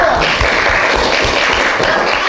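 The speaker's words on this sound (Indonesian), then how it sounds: "Tepuk tangan untuk Miftahul" Classroom of students applauding a classmate, steady loud clapping from many hands across the whole stretch.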